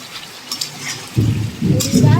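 Potol (pointed gourd) and potato curry masala being stirred and fried in oil, a quiet start giving way to a louder low sizzling bubble with scraping strokes of a spoon in the pan.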